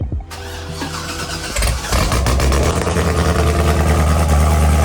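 A Chevrolet Corvette engine, just fitted with a new fuel pump, cranks briefly, then catches and roars into a loud, steady idle close by.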